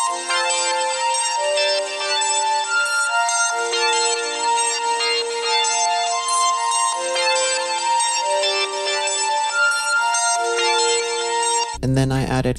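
Bright synth melody from a Serum preset in an emo plugg beat, steady sustained notes stepping through a tune, loud and alone, ending with a brief burst of noisy full-band sound.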